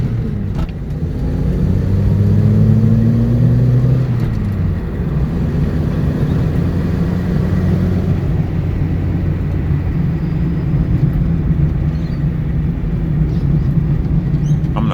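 A 1974 Honda Civic engine runs steadily while driving, a close, continuous low rumble with slight shifts in pitch and no voices.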